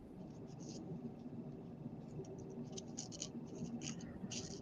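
Scissors snip through a small wooden craft piece for a miniature log cabin cap, making faint, repeated scratchy cuts over a quiet background hum.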